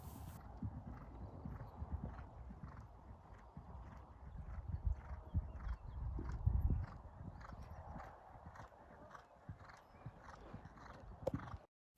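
A horse canters on the left rein during a riding session, its hooves clip-clopping in a steady rhythmic beat that stays fairly close, with occasional snorts and soft background sounds.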